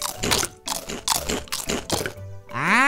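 Crunchy eating sounds from a video game resource pack, about five loud, close crunching bites in a steady rhythm, followed by a brief rising game tone, with no talk.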